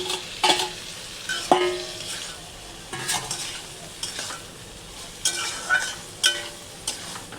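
Spice paste frying in a pan while being stirred, a steady sizzle broken by repeated scrapes and knocks of the spoon against the pan, close and clear with no talking.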